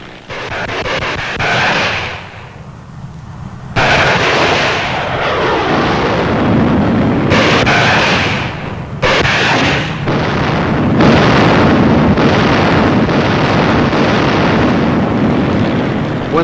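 Jet planes strike a target in a string of heavy explosions and artillery-like blasts, loud and near-continuous, with rumbling bursts that surge and cut out repeatedly.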